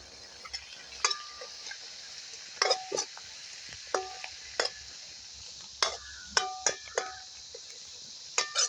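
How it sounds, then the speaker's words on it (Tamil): Onions, curry leaves and grated coconut sauté in a hot pan for an Ayudha Puja festival dish, a steady soft sizzle punctuated by repeated sharp clinks of a spoon scraping the pan, close and without talk. "தேங்காயையும் நான் சேர்த்து இது ஒரு வதக்க போகிறேன்"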